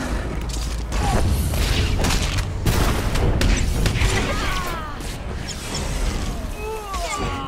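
Blaster fire and combat effects in Star Wars: The Old Republic PvP warzone play, a busy run of sharp bursts, booms and mechanical clatter over continuous game noise, with occasional talk.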